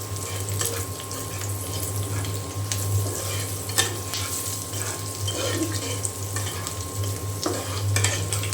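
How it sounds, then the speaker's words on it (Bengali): Eggs fry in a pan for egg bhuna, a continuous sizzle with repeated scraping stirs and the occasional clink, close and moderately loud with a steady low hum underneath. "ডিম ভোনা করে নিচ্ছি।"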